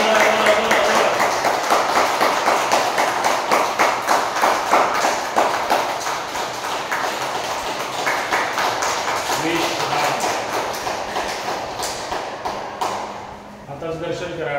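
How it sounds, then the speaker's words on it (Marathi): Loud rhythmic clapping from a group gathered for a yoga day session, a steady beat of close hand claps that runs on for a long stretch, eases briefly near the end, then resumes. "चला जोरदार टाळ्या वाजवा"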